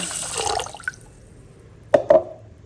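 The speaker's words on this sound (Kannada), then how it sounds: "ಇದಕ್ಕೀಗ ನೀರು ಹಾಕಿಟ್ಕೊಳ್ತೀನಿ ನಾಲ್ಕೈದು ಗಂಟೆಗಳ ಕಾಲ" Water is poured onto washed rice to soak it, producing a splashy rush at first, then after a pause two brief sloshing splashes close by, with no speech.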